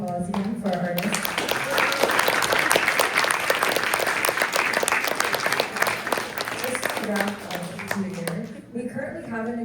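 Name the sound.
audience applause for the artists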